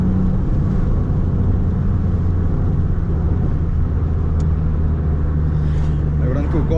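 A Chevrolet Corsa 1.4 with its original engine and a sport exhaust idles loud and steady with a deep, continuous drone, close by and alone.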